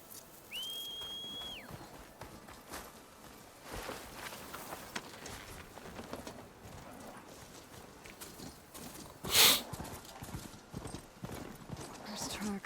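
A horse in the video game Horizon Zero Dawn clops along in a rapid, continuous run of hoofbeats, with a short whistle near the start and a sharp, loud burst later on.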